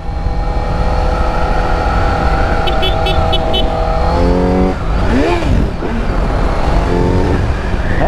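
Kawasaki Z900 motorcycle fitted with a stainless steel 304 full 4-into-1 header and the original end can, engine revving and accelerating hard with rising, shifting tones and gear changes, loud and close, with riders talking over it.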